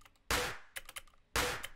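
Layered electronic snare and clap samples in a hyperpop style, two bright, crisp noisy cracks about a second apart with small clicky ticks between them, fairly quiet and alone.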